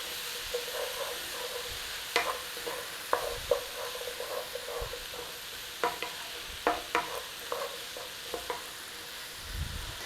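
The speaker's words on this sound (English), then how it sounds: "About 5 minutes on this in here and it should actually start to soften up that celery and carrots." Chopped celery and carrots fry in butter in a pan, giving a soft continuous sizzle while a utensil stirs them with irregular scrapes and clicks.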